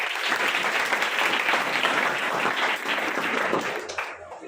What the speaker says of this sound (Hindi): इसके लिए एक बार इनके लिए जोर से ताली बजाइए